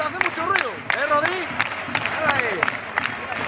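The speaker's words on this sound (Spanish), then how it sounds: "Y esta gente aplaude, ¿eh?" A football crowd at the Alcoraz stadium during a Huesca versus Sporting match, clapping and cheering in the stands beneath close, excited talk from people nearby.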